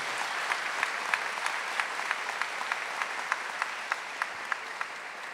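A church congregation claps together in a steady, rhythmic beat of sharp repeated hand claps, close and loud, holding a regular pulse throughout.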